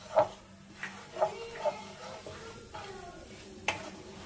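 A spoon stirs corn flour into melted butter in a pan over a low flame for creamy chicken soup, giving several soft scraping taps spread irregularly over a few seconds, close and fairly quiet with a faint sizzle beneath.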